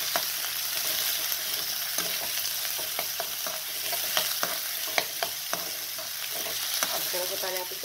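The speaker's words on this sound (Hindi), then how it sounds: "प्याज डाल के प्याज को पहले हल्का सा पहले ब्राउन होने दीजिए।" Onions frying in hot oil in a kadhai give a steady sizzle throughout, with sharp clinks and scrapes of a spoon stirring at irregular intervals; no voices.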